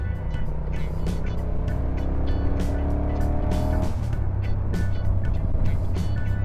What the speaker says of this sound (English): Where's that car gone?